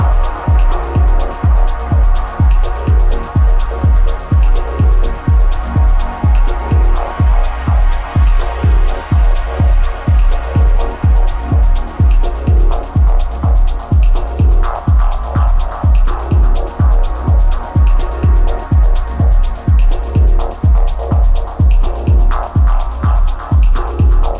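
Steady dub techno with a thumping four-on-the-floor kick, deep bass and washy, echoing chords, continuous and loud throughout.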